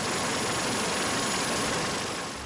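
A police helicopter flying overhead on road patrol, its engine and rotor wash giving a steady, loud, unbroken roar that fades slightly at the end.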